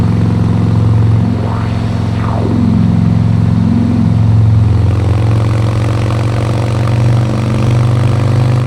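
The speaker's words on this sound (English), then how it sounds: "Right there is good exhaust sound." A motorcycle engine idles loudly and steadily up close, its exhaust rumbling low, with a couple of throttle revs rising and falling early on.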